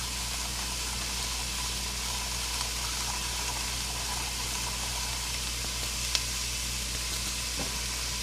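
Coriander and onion cook in a pan as a steady, even sizzle with a low background hum, broken only by one or two faint clicks.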